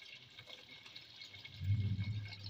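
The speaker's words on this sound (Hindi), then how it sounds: "अब हम इसके अंदर पानी ऐड करेंगे।" Water pours into a pot of soaked basmati rice for pulao with a low gurgling rush that swells toward the end, faint and unaccompanied by talk.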